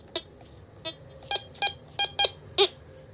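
Tanxin TX850 metal detector on its high-frequency setting, swept over red brick: a series of about seven short, sharp electronic beeps at uneven intervals, close and clear over a quiet background, with the last beep the loudest.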